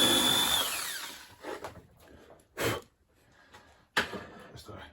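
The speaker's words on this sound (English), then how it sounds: "I'm just going to use power drill, 2mm drill bit" A power drill with a 2mm bit bores into a circuit board on a workbench, whirring loudly with a high whine for about a second, then falling away to a few sharp knocks and brief bursts of handling noise.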